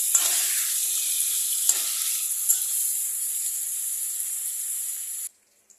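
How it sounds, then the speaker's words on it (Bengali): Chicken pieces fry in hot oil in a pan with a loud, steady sizzle, interrupted by a couple of sharp stirring scrapes before the sound cuts off abruptly near the end. "আর একটু ফ্রাই হবে।"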